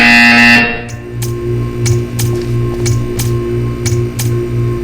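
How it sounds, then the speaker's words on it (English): A loud buzzing tone in Portal 2 sounds briefly, then a steady hum continues under a regular series of soft, evenly spaced ticks. "When you hear the buzzer, stare at the art."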